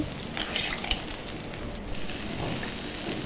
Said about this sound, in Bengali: এরপর সেই হালকা করে ভেজে রাখা আলুগুলো দিয়ে একটু নাড়াচাড়া করে নেব